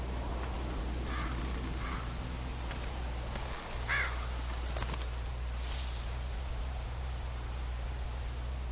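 A few hoarse crow caws ring out at a distance in The Walking Dead video game, spaced irregularly over a steady low background noise, with no talking.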